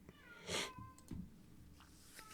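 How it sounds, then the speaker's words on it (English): A cat meows a couple of times somewhere in the room, moderately loud, with quiet background noise between the calls. "I'm just going to let that cat meow in the background"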